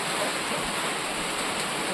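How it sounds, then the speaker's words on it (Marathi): Rain falls during the soybean harvest, an even, continuous hiss that sounds near and fairly loud throughout, with no talking in the moment. "पावसाला सुरुवात झाली त्याच्यामुळे आम्ही इकडे निघून आलो"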